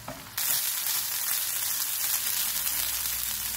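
Vegetable keema fries in oil over a medium flame with a bright, continuous sizzle that jumps in suddenly at the start and then holds steady and fairly loud, with light stirring, no voices.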